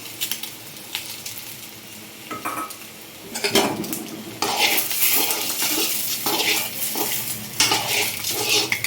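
Chili powder being stirred into a pan of egg fry, with intermittent clinks and scrapes of a spoon against the pan over a light sizzle, the stirring growing louder and busier partway through.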